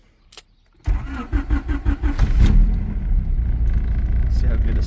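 A car engine cranks with a rapid series of starter pulses, catches, and settles into a loud, steady idle close by, following a faint sound just before.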